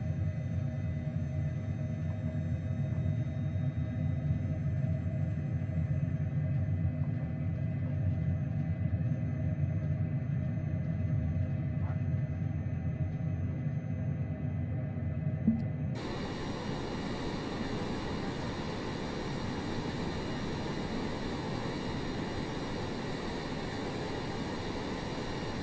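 A Boeing 747 taking off in Microsoft Flight Simulator 2020, with a steady low engine rumble that shifts abruptly to a brighter, broader roar partway through, loud and continuous with no talking.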